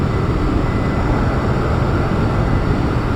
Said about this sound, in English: Pushing it to max just to see how far we can get this massive big aeroplane that it is.